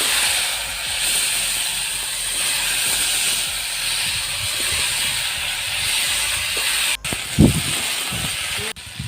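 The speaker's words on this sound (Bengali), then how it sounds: "আলু আর ফুলকপিগুলো একবার ভেজে হালকা সেদ্ধ করে নেব" Potatoes and cauliflower sizzle in hot oil, a steady loud hiss running throughout with a few clatters and bumps near the end.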